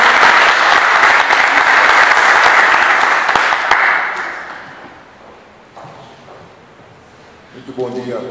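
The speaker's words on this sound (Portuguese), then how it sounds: "Uma salva de palmas aqui para a faculdade e para o reitor da Vicente." Loud, dense crowd applause fills a ceremony hall honoring a faculty and rector, sustained for several seconds before fading to quiet; a voice starts speaking at the end.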